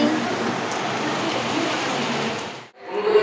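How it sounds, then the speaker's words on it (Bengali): Steady rain falls on an open rooftop, a dense close hiss that breaks off briefly near the end before resuming more faintly, with a voice heard softly over it. "বৃষ্টি বৃষ্টি বৃষ্টি বৃষ্টি"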